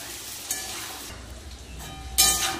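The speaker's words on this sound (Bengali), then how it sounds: "আলুগুলো একটু আমি লাল লাল করে ভেজে নেব।" Cut potatoes frying in hot oil for a soybean curry, a soft sizzle with two louder bursts of spattering, close by.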